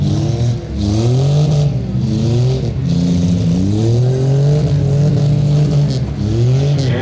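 Midsize cars roar and rev steadily through a demolition derby, their engines loud and close with rising and falling pitch and a brief lull near the start, with no talk over them.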